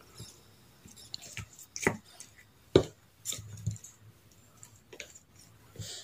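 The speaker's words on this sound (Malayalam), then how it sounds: "ഞാനിപ്പോൾ നന്നായിട്ടൊന്ന് ഇളക്കി കൊടുക്കട്ടെ." Spoon stirring a Palakkad-style ginger yogurt curry (inji thayir), giving soft wet squishes and light clicks against the bowl in a sparse, irregular rhythm, close and fairly quiet, with no talking.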